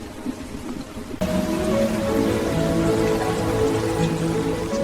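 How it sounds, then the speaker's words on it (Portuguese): Steady rain falls in a continuous wash that grows noticeably louder after the first second, with a soft, even patter filling the scene and no voices. "Tá ouvindo a chuva?"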